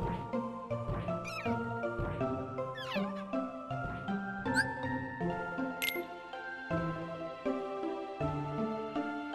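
A cat-like creature in Kingdom Hearts Dream Drop Distance meows repeatedly over a steady bed of tuneful synthesized game music, with a few rising chirps mixed in.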